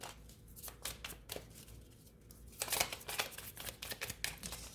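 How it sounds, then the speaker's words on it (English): Tarot cards riffle and slap as they are shuffled and pulled, close and crisp in bursts of rapid flutters with short pauses, with no talking. "let me just pull some cards"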